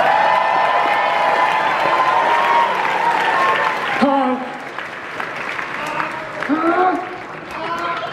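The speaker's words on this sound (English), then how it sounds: "Give a big, big, big round of applause for Untitled Dance Crew Team!" Loud, dense applause with cheers and whoops from the crowd at a furry convention dance competition. It swells, then cuts off abruptly, leaving scattered claps and voices talking nearby.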